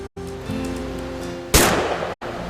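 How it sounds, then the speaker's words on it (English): A single sharp gunshot rings out in What Remains of Edith Finch. The loud, close blast is followed by a short decaying tail, set between quieter stretches of ambient game tones. "Great shot, Dawn!"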